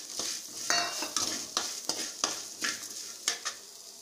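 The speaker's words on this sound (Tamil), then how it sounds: "கொஞ்சம் நல்லா வதங்கட்டுங்க முள்ளங்கி" Radish sizzles and crackles in a hot pan while a utensil stirs it in repeated scraping strokes, close by and with no talking.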